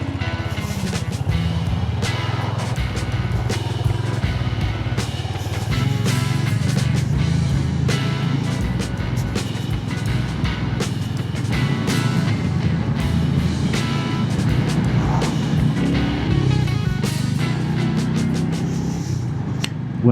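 A Royal Enfield Hunter 350 motorcycle is ridden, its engine droning loudly and steadily with road and wind rumble throughout, no speech.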